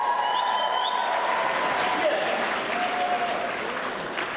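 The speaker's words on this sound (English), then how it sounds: "give yourselves a round of applause" A room full of students applauds at the 2013 National Enterprise Challenge event in Great Britain, producing dense, steady, loud clapping that continues without a break for the whole stretch.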